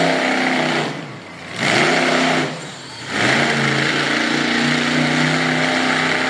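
A monster truck's engine roars hard during a pull, sustained and loud with harmonic tones and two brief dips where the revs fall and climb again.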